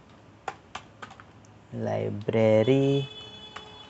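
Computer keyboard typing a database query, a few separate key clicks followed later by scattered taps, with a voice speaking in the middle of the clip.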